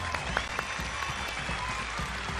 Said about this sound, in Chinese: 让我们一起为自己鼓鼓掌